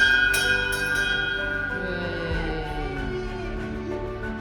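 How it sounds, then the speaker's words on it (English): End-of-treatment bell after breast cancer therapy ringing with bright sustained metallic tones, struck several times at the start and left to ring out and slowly fade. "Ring out, ring this bell 3 times well."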